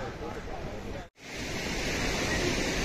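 Jogini waterfall near Manali roars as a steady wide rush of falling water, loud and continuous, with a brief dropout near the middle.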